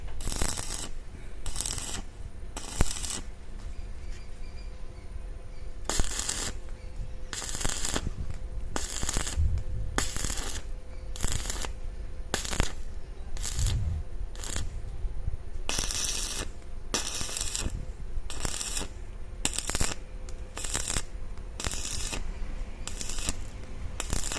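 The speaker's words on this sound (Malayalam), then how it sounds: "ഇപ്പം നമ്മളത് വെൽഡ് ചെയ്തുകൊണ്ടിരിക്കുകയാണ്" Welding two rings onto a coconut husking tool, heard as a continuous crackling buzz broken by regular bursts of harsher sputtering, close and steady for the whole stretch, with no voices.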